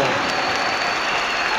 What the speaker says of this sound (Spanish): Un aplauso para esta hermana